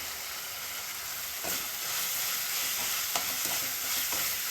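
Ginger, garlic and green chili sauté in a pan for a Chennai-style vada curry, giving a continuous close sizzle with a few sharp scrapes of stirring scattered through.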